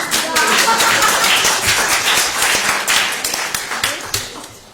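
An audience at a community congress in Lviv claps steadily, a dense patter of many hands, loud and close, tapering slightly toward the end.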